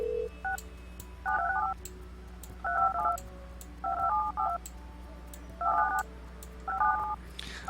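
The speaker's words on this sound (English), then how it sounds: "I love that little dial tone here." A telephone in the Project Highrise video game plays a repeating pattern of dual-tone dialing beeps, about six clear bursts at a steady pace over a low background hum.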